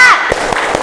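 Schoolchildren in a class doing a 'tepuk semangat' spirit clap, with three sharp group claps spaced evenly over a second, along with a shouted voice at the start.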